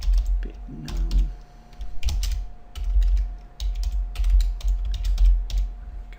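Rapid, irregular typing on a computer keyboard during C++ coding, close and clear, with bursts of keystrokes separated by short pauses and a low hum underneath.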